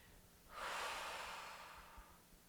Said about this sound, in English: So it's 2 quick inhales followed by an exhale.